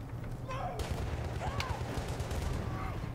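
Gunfire in the World War I shooter Battlefield 1, a mix of mid-distance rifle shots and rumbling booms over a steady battle din, with a voice talking through it.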